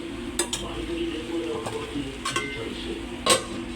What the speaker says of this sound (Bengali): এই যে এভাবে নাড়াচাড়া করে নাড়াচাড়া করে এরপরে একটু রেখে দিচ্ছি